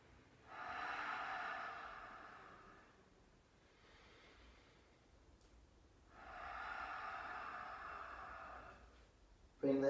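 Breath exhaled through an open mouth during yoga breathing, two long airy rushing exhales separated by a quieter breath, close and soft, with no talk.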